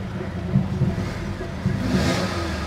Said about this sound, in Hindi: अब एक्सीलेटर दबाओ एक बार